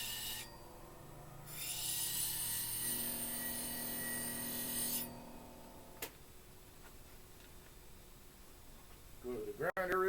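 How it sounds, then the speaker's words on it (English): A bench grinder hones a woodturning tool to raise a new burr, with a bright, close grinding hiss over the motor's steady hum for a few seconds, then the motor whine winding down, followed by a brief voice. "go to the grinder real quick"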